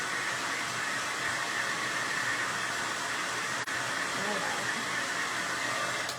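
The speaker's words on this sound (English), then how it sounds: "I'm gonna hit this with the blow dryer just a bit and make some noise" A blow dryer runs continuously close by, a steady, even whooshing hiss as it dries paint on an Easter carrot craft, with a brief click midway.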